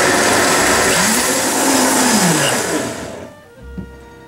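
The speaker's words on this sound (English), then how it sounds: "And I'm going to blend this." A kitchen blender whirs loudly blending peppers for fermented chili sauce, its motor pitch dipping and rising as contents churn, then winds down and stops with a clunk.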